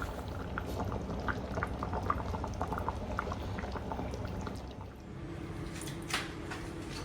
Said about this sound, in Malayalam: മീൻകറി ഒരു 20 മിനിറ്റ്സ് നന്നായിട്ട് തിളച്ച് ഒരുവിധമൊക്കെ കുറുകി വന്നിട്ടുണ്ട്